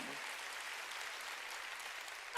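Congregation clapping together during a Korean church sermon, a steady broadband wash of applause holding even throughout, swelling slightly at the very end.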